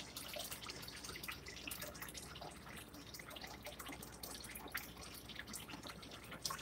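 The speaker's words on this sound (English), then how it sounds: "I'm just getting some water here." Water is drawn from a tap at home, a faint steady trickle and scattered drips running on continuously at low level, with no voices.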